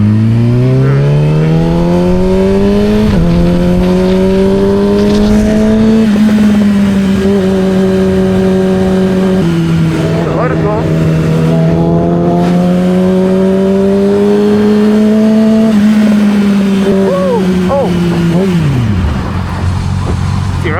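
A Yamaha R6 motorcycle coasts in neutral in wet riding mode, its engine a steady, close, loud drone that idles with mild dips and rises in pitch, with no talking.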